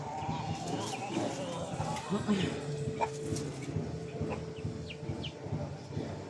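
A chicken meant as an offering clucks intermittently nearby while someone talks over it in a rainy outdoor setting.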